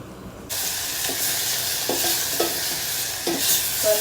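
Loud sizzling of rasam ingredients frying in a pan with oil, with occasional scraping and stirring sounds over the steady hiss.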